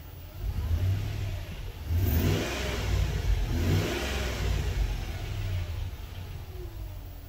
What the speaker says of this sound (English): So I just revved it up to like 1500 RPM just for the sake of trying to speed it up a little bit.